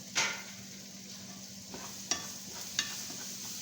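Tomato paste sautéing for an eggplant gravy, with a low steady sizzle under a constant hum, broken by three or four spoon scrapes against the pan.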